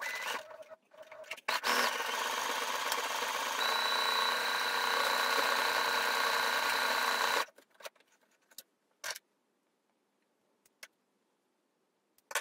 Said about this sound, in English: So now's the time to use your automatic buttonholer and put your buttonholes on.